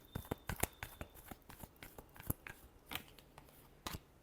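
Tarot cards get a final shuffle close by, a series of sharp, crisp riffling snaps and slaps in irregular quick bursts, fairly faint against a quiet background.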